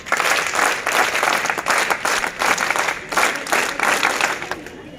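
An audience at a scouts and guides training event bursts into loud, rhythmic clapping in a welcome, with surges and dips in intensity and a slight fade at the end.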